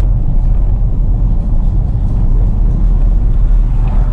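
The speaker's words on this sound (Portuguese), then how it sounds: "o ruído de alguma moto aí com escapão" A loud, continuous low engine rumble from a motorcycle with a loud exhaust fills the clip, steady and close, like a motorbike idling or passing.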